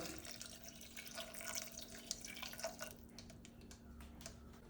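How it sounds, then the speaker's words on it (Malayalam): Water is poured into a pressure cooker holding masoor dal, garlic and onion, a faint, close splashing trickle that fades near the end. "ഇനി നമുക്ക് വേവാൻ ആവശ്യത്തിന് മാത്രം വെള്ളം ഒഴിച്ചു കൊടുക്കുക"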